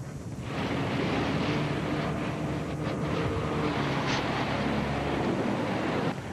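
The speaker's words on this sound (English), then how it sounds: "That's the sound of hail falling in Redding just a short time ago." Quarter-size hail falls in Redding during a severe thunderstorm as a dense, continuous roaring patter, wind-like and steady for several seconds with no voices.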